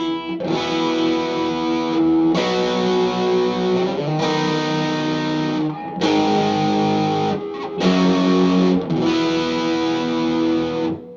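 Loud, heavily distorted electric guitar playing sustained chords with a slight reverb tail, chords changing every couple of seconds with brief gaps between them.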